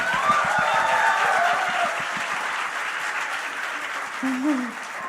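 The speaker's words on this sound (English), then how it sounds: "I want a loud round of applause." Audience applause at a seminar conference fills the room: sustained clapping from many hands, loud and close at the start, then slowly thinning as it goes on.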